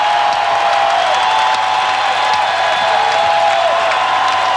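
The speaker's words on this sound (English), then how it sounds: "The crowd trying to do their part." A basketball arena crowd at the 1995 NBA Finals Game 2, Houston Rockets against Orlando Magic, keeps up a loud, sustained roar of cheering and scattered clapping that fills the whole stretch without letting up.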